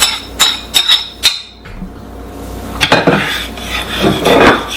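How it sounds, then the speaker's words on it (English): A spoon knocking and scraping against a crock pot while chives are stirred into potato soup, a quick run of loud clinks, a brief pause, then more clattering and scraping, close and prominent. "And stir this around."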